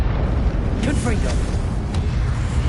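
Confringo spell blast in the Hogwarts Legacy video game, a loud booming burst over a dense, constant rumble of game noise, with a voice speaking.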